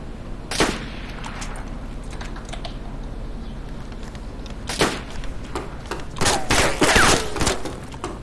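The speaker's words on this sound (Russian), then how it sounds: "Бля, по мне стреляют." Gunfire in the video game DayZ Standalone, a sharp shot early on, then several more bursts of shots near the end, loud and close against a steady background hiss.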